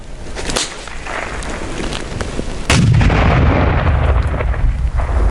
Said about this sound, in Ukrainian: Остання вправа цього разу метання гранати.